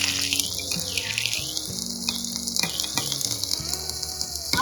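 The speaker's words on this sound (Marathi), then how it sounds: "ऑइल छान गरम झालं यामध्ये आता जिरे ॲड करून घेऊया त्यानंतर हिरवी मिरची ॲड करायची" Cumin seeds and green chillies crackle and sizzle steadily in hot oil for a tadka. The frying is loud and close, with a dense, continuous sputter throughout.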